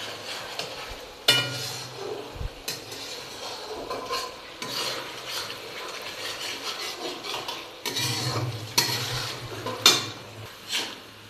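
Chicken being stirred in a pan, with repeated metallic scrapes and clanks of a utensil against the cookware over a faint low sizzle and no talking.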